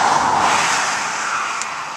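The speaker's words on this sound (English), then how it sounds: "as you can tell by the traffic" Traffic roars past on the Trans-Canada Highway south of Wawa, Ontario, with a loud, close, broadband rush of a vehicle sweeping by and slowly fading.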